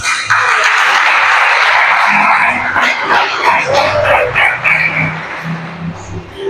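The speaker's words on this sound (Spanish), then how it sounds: "Démosle un aplauso al Señor." A church congregation in Cumanacoa claps during a service. The applause is loud and dense at first, then thins and fades as scattered voices rise beneath it.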